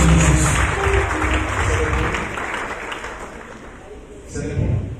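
Applause from a church congregation acclaiming Jesus, a sustained burst of clapping that fades and then swells briefly at the end, with a voice speaking over it.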